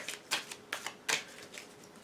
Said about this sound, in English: So I'm just going to try to shuffle these here.